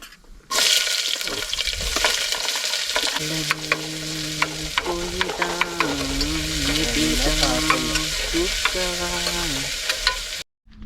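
Food roasts in a pan on a stove with continuous sizzling and stirring scrapes, while tonal humming sounds drift through the middle before a sudden cutoff.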